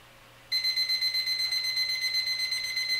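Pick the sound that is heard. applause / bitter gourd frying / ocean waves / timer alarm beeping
timer alarm beeping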